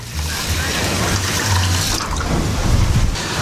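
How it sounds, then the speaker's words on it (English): About three cups of water pour from a container onto soaked long-grain basmati rice in a metal pot, a continuous close splashing gush that shifts in tone as the pot fills. "I will then add around 3 cups of water."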